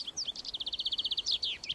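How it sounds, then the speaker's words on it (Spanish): Native Chilean birds sing in a garden, a rapid run of bright, evenly spaced chirps rising and falling, then a few quicker trilled notes, close and clear over quiet background. "Y ahora a escuchar pájaros, a cuidar pájaros y a conversar con pájaros."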